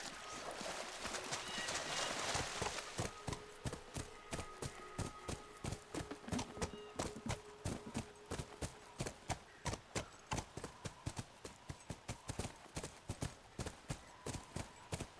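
Horse hooves in the video game The Last of Us clip-clop in a steady, even rhythm, crisp and close, preceded by a brief burst of rushing noise at the start.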